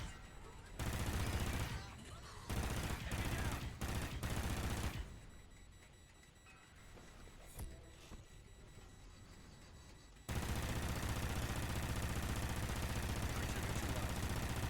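Automatic gunfire from the player's gun in Call of Duty: Ghosts Extinction, loud sustained bursts that break off and return after a quieter stretch. A final long, continuous volley runs to the end.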